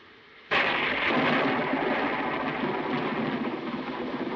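A thunderstorm with a sudden loud thunderclap that rolls on into a sustained, heavy rumble mixed with rain, heard alone after a quiet start.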